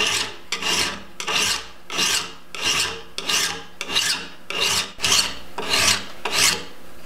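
A steel cabinet scraper is filed to remove an old burnished hook, giving about ten even, close, rasping strokes in a steady rhythm with brief pauses between them and no talking.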